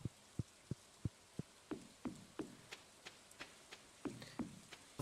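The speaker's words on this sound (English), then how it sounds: "Speaking of rain." Rain in a cozy farming video game falls as sparse, evenly spaced drops, each a soft distinct tap at a slow steady rhythm, quiet and alone.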